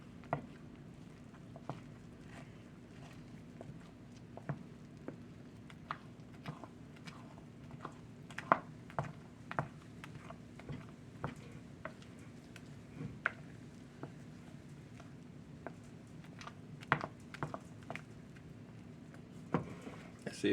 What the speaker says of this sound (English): I hear the sleet hitting the window over here.